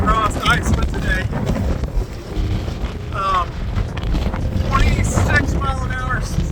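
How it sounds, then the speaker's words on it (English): Strong, gusty wind across Iceland, sustained around 26 mph with gusts far higher, buffeting the microphone with loud continuous roaring, while a voice talks over it. "it's been really windy across Iceland today"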